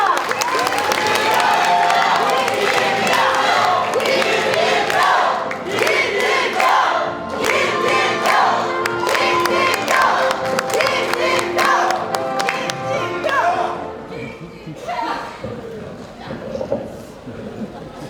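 Crowd at a Democratic Party joint campaign rally in Jeju welcomes a party leadership candidate with loud, sustained applause and cheering that fills the space, fading somewhat toward the end with voices mixed in.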